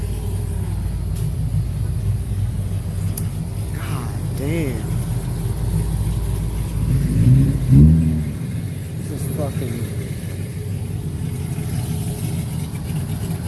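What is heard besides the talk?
1,000 horsepower Super Snake car engine idling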